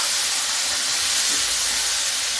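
Water poured into a hot pan of sabudana bhujiya seasoned with salt sets off a loud, dense sizzle. The steam hiss runs close and unbroken from start to finish, with no voices.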